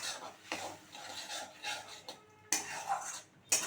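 A spatula scrapes and stirs spiced masala frying in a pan for a jackfruit curry, with irregular rasping strokes and a few sharp metallic clinks against the pan, close and fairly quiet.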